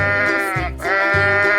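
Two loud, close bleats from a goat in a 3D animal slide video game, each a nasal wavering cry, the second following after a brief dip.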